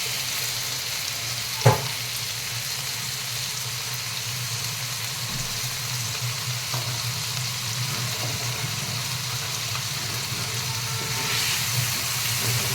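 Urad and moong dal fry in hot oil with a steady crackling sizzle, moderately loud and continuous, punctuated by one sharp clink early on.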